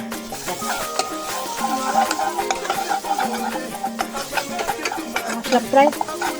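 Ground coriander and cumin frying in oil in a kadai, a close, steady sizzle with repeated stirring scrapes and clinks of a spoon against the pan throughout.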